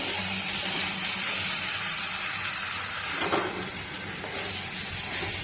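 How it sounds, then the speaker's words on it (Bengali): Mixed vegetables for a Bengali labra stir-fry, freshly salted, sizzle steadily in a pan while being stirred, a constant close hiss with a few soft scraping stirs and no voices. "এবার আমি নুনটা দিয়ে দিলাম, নুনটা দিয়ে একটু নেড়ে নেব"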